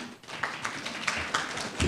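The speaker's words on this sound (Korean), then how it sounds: "큰 박수로 환영 부탁드립니다" Scattered applause from a conference audience welcoming a presenter, irregular individual claps rather than a dense roar, fairly quiet and spread through the room.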